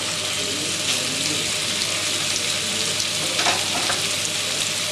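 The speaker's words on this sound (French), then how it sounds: "il faut quand même que ça prenne dans la poêle à frire. Voilà, je mets dedans." Chicken frying in butter in a frying pan, a loud, dense, continuous crackling sizzle close by, with a few faint scrapes partway through.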